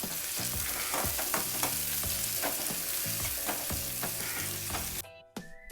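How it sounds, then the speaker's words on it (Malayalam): Curry leaves and halved dried red chillies fry in oil for an Angamaly-style fish curry, a close, crackling sizzle with repeated stirring scrapes, then an abrupt drop to near quiet with a couple of final clatters. "പിന്നെ 2 വറ്റൽമുളക് പകുതിയായിട്ട് കണ്ടിച്ച് അതിലേക്ക് ചേർത്ത് കൊടുത്തിട്ട് നന്നായിട്ട് ഇളക്കി കൊടുത്ത് മൂപ്പിച്ചെടുക്കാം"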